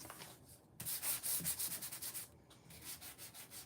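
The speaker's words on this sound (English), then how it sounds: "Just sand them all." Hand sanding small wooden craft pieces for Christmas tree decorations, a close, steady rasping rub in rhythmic back-and-forth strokes with brief pauses between passes, with no talking.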